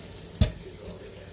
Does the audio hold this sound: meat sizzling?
yes